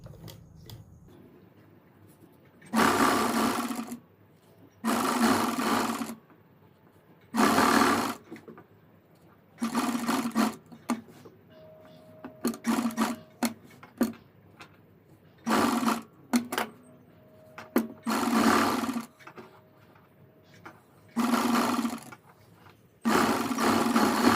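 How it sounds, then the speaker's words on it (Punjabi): A sewing machine stitches a suit neckline in repeated short bursts, about ten distinct runs of loud whirring separated by quiet pauses, close and with no talking. "ਇਹਨੂੰ ਆਪਾਂ ਇੱਥੇ ਸਲਾਈ ਕਰ ਦਿਆਂਗੇ"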